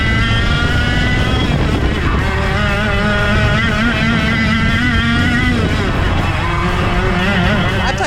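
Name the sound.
racing kart engine revving loudly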